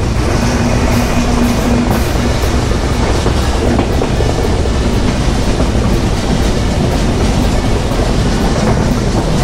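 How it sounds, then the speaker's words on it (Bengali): An intercity Padma Express train runs at speed, heard from on board as a loud, continuous rumble with rapid rhythmic clatter from the wheels over the rails and no voices. "পরন্ত একটা বিকেলে দুরন্ত একটা রেল জার্নি হচ্ছে আন্তনগর পদ্মা এক্সপ্রেস ট্রেনের সাথে"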